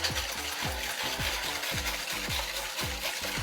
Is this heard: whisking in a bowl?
yes